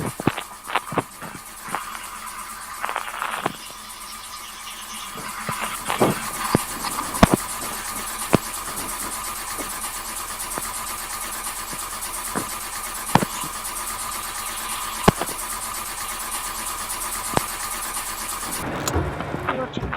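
Engine of a car in the video game My Swallow Car cranking, catching and settling into a steady idle, with sharp clicks and knocks over the running hum, fairly loud and close, ending in an abrupt cutoff.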